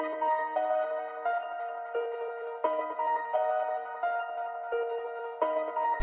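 In FL Studio 21, a dark piano melody runs through the Portal plugin's Skeet preset and comes out as a smeared, delay-soaked pattern of repeating stepwise notes. It is steady and moderately loud, with no speech.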